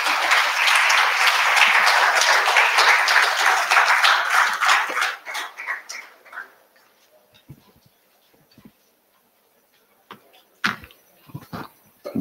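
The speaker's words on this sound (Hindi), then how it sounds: "तालियां तो होनी चाहिए।" Audience applause at a 2021 NIMCJ convocation ceremony, dense sustained clapping for about five seconds that thins into scattered claps and fades to near silence, with a few isolated late claps.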